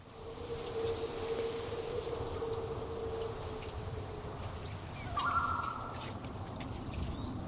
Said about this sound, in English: You can actually hear birds chirping.